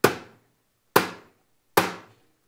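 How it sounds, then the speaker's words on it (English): Three sharp, evenly spaced taps from the back of a screwdriver striking the housing of a Guardian 628 garage door opener, each a loud, crisp knock with a short decay, heard alone. "by taking the back of a screwdriver or a hammer and just giving it 3 taps like"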